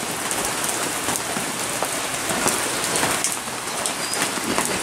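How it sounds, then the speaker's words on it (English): Steady rain patters down outdoors near feeder pens stacked with sacks of rice hulls, a dense, even hiss of drops striking surfaces, with faint bird calls here and there and no voices. "it started to rain"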